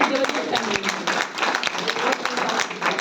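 Dense applause from an audience at a leadership program event in Manali, steady and sustained across the moment with overlapping claps filling the room.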